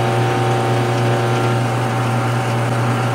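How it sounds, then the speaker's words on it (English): Metal lathe running slowly while chamfering the ends of set screws, a steady dense mechanical whir with a low tonal drone and faint rattling chatter, close and continuous throughout. "the last step in finishing off these set screws is just to chamfer the end, which I'll do now"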